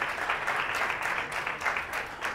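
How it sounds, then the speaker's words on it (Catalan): A studio audience at a televised school quiz contest applauds a team of students, with a dense, steady wash of many hands clapping at moderate volume and no talk over it. "Un aplaudiment."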